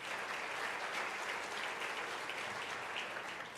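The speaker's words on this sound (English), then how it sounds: "Please give them all a round of applause." Steady applause from a large audience at the U.S.-Africa Leaders Summit, a dense continuous wash of clapping heard from a distance, even in level throughout and with no voices.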